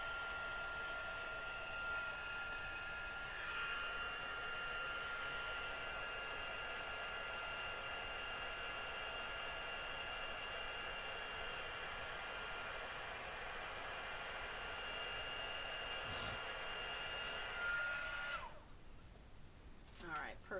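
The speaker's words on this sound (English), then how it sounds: "Heat tool warm up." A craft heat tool blowing while heat-setting embellishment, a steady, loud, airy fan whoosh held for most of the time before it cuts off near the end.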